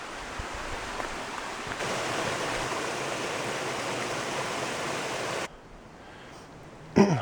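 Mountain stream Bromley Brook on the Long Trail near Bromley Mountain, a steady broadband rush of flowing water that grows louder partway through, then drops off near the end before a brief close knock.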